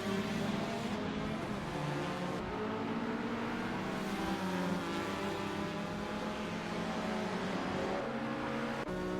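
Race cars roaring around Horsma Raceway in a racing game, a continuous dense engine drone with layered revving pitches as several cars pass close, loud and unbroken without any voices.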